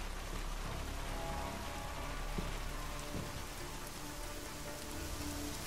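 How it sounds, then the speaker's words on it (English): Steady rain falls in the video game Deus Ex: Mankind Divided, a continuous, even hiss of drops on surfaces that holds at a constant level throughout, with no voices. "now it's raining?"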